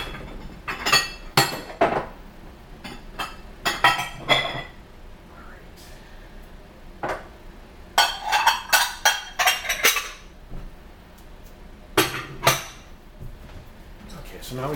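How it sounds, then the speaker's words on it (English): A big bowl is pulled out from among dishes, with clusters of clinks, clanks and knocks of crockery and cutlery coming in uneven bursts separated by quieter pauses, close by. "So I'm going to take that big bowl."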